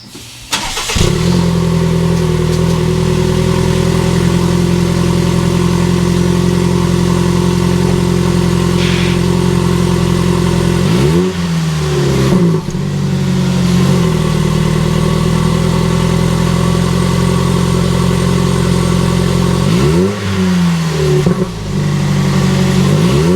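A car with a new axle dump exhaust cranks to life and settles into a loud, deep idle, with two revs that rise and fall partway through, close by and with no talking.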